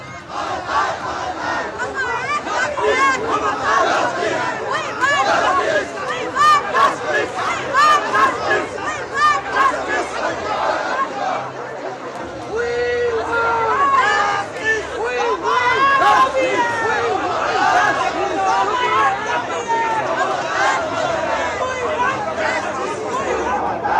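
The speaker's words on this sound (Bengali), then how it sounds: "স্লোগান দেওয়া চলছে" A dense crowd on a Nabanna rally march chants slogans loudly and continuously, many voices rising and falling together in a rough rhythm over a steady babble that never drops away.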